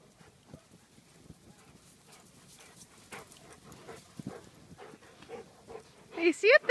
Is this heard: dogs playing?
yes